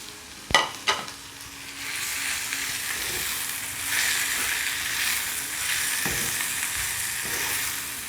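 Kohila leaves frying and sizzling in hot oil in a pan, a steady close crackle after a couple of sharp knocks at the start, with the sizzle swelling as the leaves are stirred.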